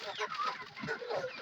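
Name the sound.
poultry chickens clucking on a farm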